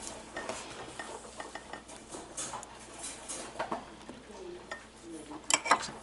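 A knife scoops and spreads jelly on bread for a banana dog, making quiet, irregular scrapes and small clinks against a jar, with a sharper clatter near the end.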